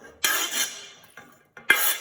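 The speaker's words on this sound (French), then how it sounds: "On les met à l'intérieur de la casserole, tranquillement." Diced carrots and onions tipped into a saucepan in a home kitchen, heard as two bursts of clattering, scraping contact against the pan separated by brief quiet, with a few light knocks in between.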